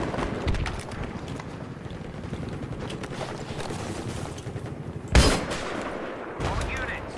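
Mortar and gunfire in the video game Battlefield 3 sound as scattered distant shots and rumbling impacts, with one sharp loud blast near the middle and another thump later, under a player's talk.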